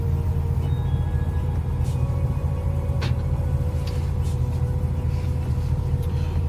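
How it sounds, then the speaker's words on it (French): A heavy goods truck's diesel engine runs at idle after being started, a steady loud low rumble filling the whole stretch with a faint brief hiss midway. "je démarre le camion, je vais pouvoir y aller"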